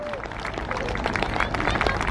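Outdoor crowd applauding the Synchro Pair aerobatic display at the RIAT air show, a steady broad wash of clapping and crowd noise over two seconds with no clear speech.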